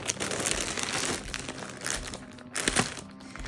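A plastic bag holding clothes being handled, giving loud, close crinkling and rustling in continuous bursts with a couple of sharper crackles, no talking over it.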